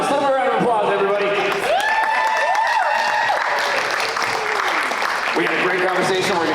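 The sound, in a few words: audience applause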